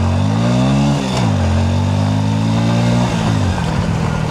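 A Hero Splendor Plus commuter motorcycle engine revs up loud and close in first gear, pitch climbing, dipping briefly at a gear shift, then rising again and dropping off near the end.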